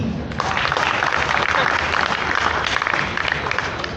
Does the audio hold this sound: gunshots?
no